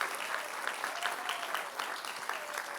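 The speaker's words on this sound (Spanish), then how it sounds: "alaben al Señor con sus palmas" A church congregation claps together in a steady, even rhythm, a dense wash of many hands at moderate distance with no break.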